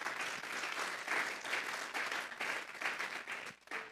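A congregation at a Sunday service applauds the Lord with sustained, dense clapping from many hands, quiet and somewhat distant, tapering off briefly at the very end.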